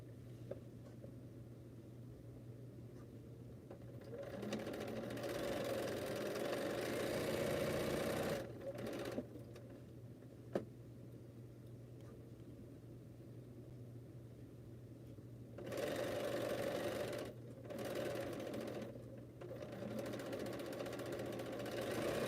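A Baby Lock sewing machine running at a slow pace while quilting, giving a steady, faint mechanical hum and whir in quiet surroundings, with the motor speeding up and easing off in several stretches.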